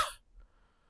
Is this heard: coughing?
yes